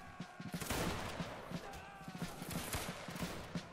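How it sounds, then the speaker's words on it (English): A musket volley from a line of soldiers in a Roblox battle game, a ragged burst of many overlapping shots crackling close together, followed by scattered pops. "Fire, everyone fire."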